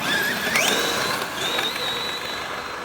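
Traxxas XMaxx 8S and MAXX 4S electric RC cars drag racing: high whining motors rise sharply in pitch as they accelerate away, heard from nearby over outdoor noise.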